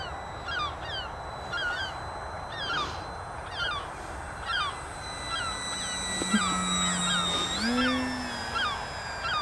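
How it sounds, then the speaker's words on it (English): A seagull's repeated harsh calls ring out in short bursts over steady outdoor ambience, with a high whine of a model plane rising near the end. "It looks like my plane's being chased by the local bully seagull."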